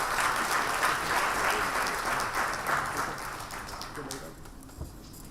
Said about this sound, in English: We need to give her another round of applause.